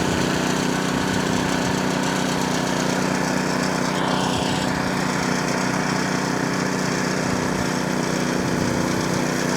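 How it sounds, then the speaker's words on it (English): A power trowel's engine drones loud and steady as it smooths freshly poured concrete for a barn floor, a constant close mechanical hum with rough vibration and no pauses. "with a power trowel, we'll hit it maybe 3 times"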